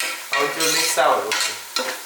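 Chicken sukka being stirred as it fries in a pan, with several scraping strokes of a utensil over a bright, steady sizzle, close and fairly loud, no voices.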